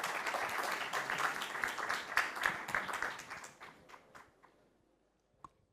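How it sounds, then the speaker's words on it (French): Audience applause welcoming panelists at a round-table conference on transport decarbonization: a room full of clapping that thins out after a few seconds into a few last isolated claps, then near silence with one final tap. "Vous pouvez les applaudir"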